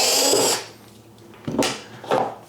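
A power drill backs a screw out of a dust collector topper in a garage shop: one loud whir of about half a second, a short pause, then two brief, sharp bursts close by.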